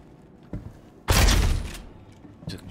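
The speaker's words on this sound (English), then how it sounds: "Took a shotgun in the face." A shotgun blast rings out in the video game Star Citizen, one loud booming shot with a trailing roar, framed by a few softer thumps before and after.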